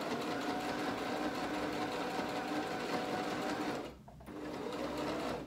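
A home sewing machine runs steadily through a seam, its fast buzzing rhythm close and loud, dropping out briefly near the end for a back stitch before resuming.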